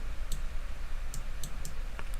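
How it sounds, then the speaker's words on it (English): Keyboard typing sound effect laid under on-screen text: a handful of sparse, crisp key clicks spaced irregularly, close and fairly quiet with no talking. "also add in the keyboard effect, so it doesn't sound out of place"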